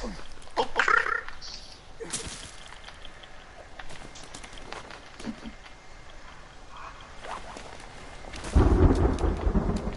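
Thunder rumbles and rain falls in a forest in the survival video game The Forest, with a loud burst of storm noise near the end over steady background ambience.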